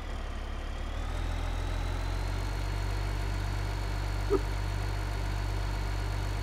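A tractor engine in Farming Simulator 15 idles with a steady low rumble that runs loud and unbroken from start to finish, with one brief knock midway.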